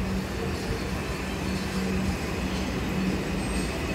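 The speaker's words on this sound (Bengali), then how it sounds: "ট্রেন চলে এসছে" A Kolkata Metro train pulls into an underground station at Dum Dum, a steady rumble of wheels on rail with faint squealing, moderately loud and continuous with no talking.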